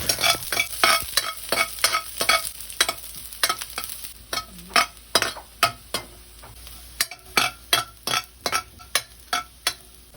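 Garlic sautéing in hot oil in a pan, with a steady sizzle throughout and a regular series of sharp scraping stirs from a utensil, close and fairly loud.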